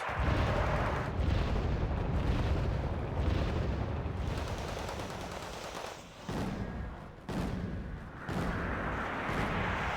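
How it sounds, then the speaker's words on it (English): Mortar fire in the real-time strategy game Wargame Red Dragon, a dense continuous rumble of distant booms and blasts with a few sharper thuds rising out of it, steady throughout. "The mortars, trying to mortar the mortars."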